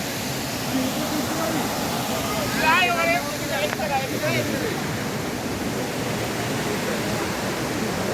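Bamni waterfall in the Ayodhya hills of Purulia pours down the hillside as a steady, broadband rush of falling water that runs through the whole stretch, with a voice or two briefly audible over it midway.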